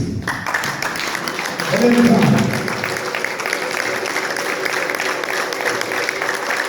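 A church congregation claps and cheers together in a sustained wash of applause, swelling briefly at one point, with a voice and crowd murmur mixed in throughout.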